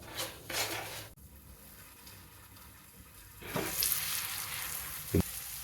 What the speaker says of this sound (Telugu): మంట మీడియంలో పెట్టుకుని వీటన్నిటిని బాగా మగ్గనిద్దాం